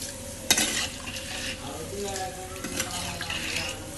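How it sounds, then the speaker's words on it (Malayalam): Rice and water are stirred in a cooking pot, giving close, soft swishing and sloshing with a sharp clink at the start and a few light knocks, fairly quiet. "ഇനി ഒന്ന് ഇളക്കി കൊടുക്കുക."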